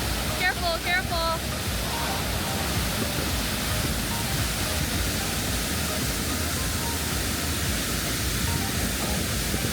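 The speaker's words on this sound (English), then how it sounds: "I'm gonna go touch the waterfall." A waterfall on an Alaskan glacier hike roars as a dense, steady wash of broadband noise, loud and close throughout, with brief shouted voices early on.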